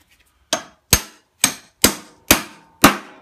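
A hammer drives a socket and an old bushing to seat a bearing on a John Deere L120 riding mower, six sharp metallic blows in an even, deliberate rhythm, close and loud.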